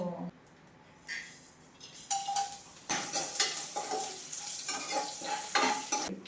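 Whole spices such as cloves, cinnamon, bay leaf and marathi moggu fry with kasuri methi on a low flame, giving a soft crackling sizzle with a few stirring clinks and scrapes of a spoon in the pan.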